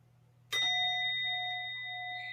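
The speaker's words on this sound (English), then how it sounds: "When you're ready, you can ring the gong again." A gong is struck once in a quiet classroom mindfulness exercise: a sharp close strike, then steady ringing tones that slowly soften and fade, heard alone without talk.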